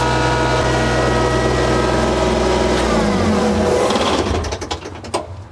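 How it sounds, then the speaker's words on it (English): Kubota BX80 series compact tractor engine droning steadily inside the closed deluxe cab, a loud continuous low rumble with whining harmonics that shifts and eases toward the end, alone without talk. "This is what it sounds like inside the cab with the door closed."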